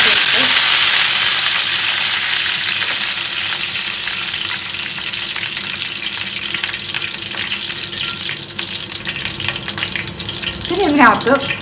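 Fennel seeds and curry leaves sizzle and crackle in hot oil in a pan for curry, a steady loud frying hiss that eases slightly midway, with a brief stir or clatter near the end.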